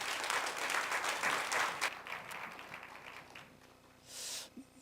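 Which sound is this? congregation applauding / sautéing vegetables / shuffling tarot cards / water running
congregation applauding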